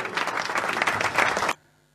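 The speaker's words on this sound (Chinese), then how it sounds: "掌声鼓励" A short burst of audience applause at a live stand-up comedy show, dense clapping lasting about a second and a half before cutting off abruptly.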